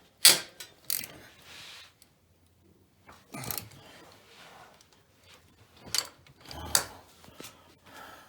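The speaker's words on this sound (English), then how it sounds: "We're just finishing tightening up the diff." Hand tools work on the differential of a Grizzly ATV, giving sharp metallic clanks and ratcheting clicks in irregular bursts separated by quiet gaps, all close by.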